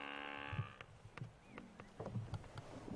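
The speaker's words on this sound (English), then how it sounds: "The one in front is the one that's actually making that mooing sound" Animal on a safari drive giving a low mooing call, a few short deep grunting calls over a quiet outdoor background, following a brief sustained tone at the start.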